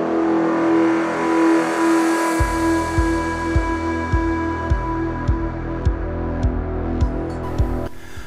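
A car on a straight road accelerates to overtake. The engine's steady drone swells louder, with a regular thumping pulse running underneath and a close, sustained roar from inside the car.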